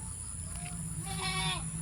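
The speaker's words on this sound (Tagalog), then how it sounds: "Yan, mga kambing ni Uncle." Goats on a farm in the Philippines let out a wavering bleat, faint and somewhat distant over a steady background hum.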